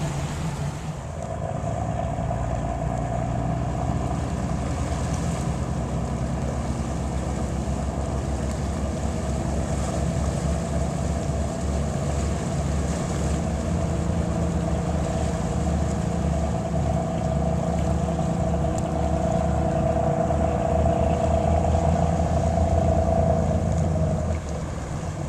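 Engine rumble of a 2009 Sea Ray 480 Sundancer maneuvering under its Zeus drive system, a steady loud drone with a rising whine and wind and water noise throughout, no talk.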